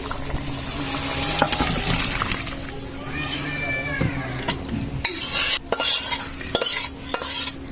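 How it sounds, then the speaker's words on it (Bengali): A pot of curry handled at a home stove: clinking and scraping utensils against metal, a soft sizzle, then several loud, harsh bursts of clatter near the end, close by, with a cat's meow-like cry in the middle and no clear talk. "আর মা এখন তরকারিটা নামিয়ে নিচ্ছে"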